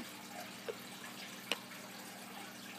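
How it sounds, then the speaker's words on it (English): Water runs steadily while a water bottle is washed off at a sink, a constant soft rush with a couple of brief drips or knocks in the middle. "I'm gonna wash off this water bottle."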